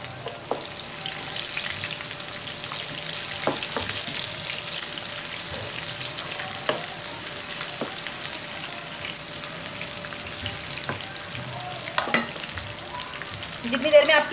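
Sliced onions and whole black peppercorns fry in about half a cup of oil for a tarka of white mash dal, giving a steady, even sizzle that holds throughout with occasional soft clicks and stirs.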